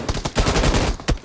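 Gunfire in the mobile battle-royale game BGMI during team deathmatch practice, likely from an M249, comes as a rapid automatic burst followed by two separate close single shots, loud and with no talking.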